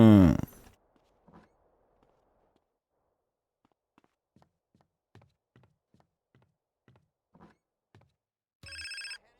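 A mobile phone ringtone in the game GTA San Andreas chirps briefly at the start and again at the end. In between comes a quiet stretch broken by soft taps and footsteps.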